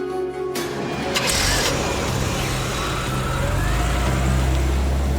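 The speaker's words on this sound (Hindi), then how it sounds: "गाड़ी अभी गई है" A car engine starts and the vehicle pulls away outside a school, its rumble building into a steady, fairly close drive-off sound with no talk.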